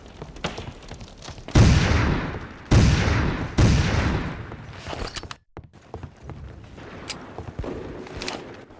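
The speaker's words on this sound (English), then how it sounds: "Take over the big Gatling gun, son!" A Gatling gun fires in a Civil War video game in several long, loud rattling bursts, each running a second or more, with a short gap between them and quieter scattered shots trailing off afterward.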